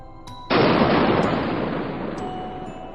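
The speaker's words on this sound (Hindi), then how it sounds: "इसे पूरा करने के लिए वर्कर्स ने फिर से डायनामाइट विस्फोट और जैक हैमर्स का इस्तेमाल किया" A dynamite blast cuts rock during construction of the Hoover Dam: a sudden, loud boom that swells into a long, roaring rumble and fades slowly.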